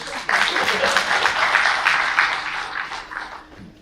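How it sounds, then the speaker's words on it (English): An audience claps at a plenary session of an international arbitration conference in Ahmedabad, a dense burst of clapping that swells quickly and slowly fades over a few seconds, with some speech mixed in. "Young lawyers are not here? Yeah, please clap"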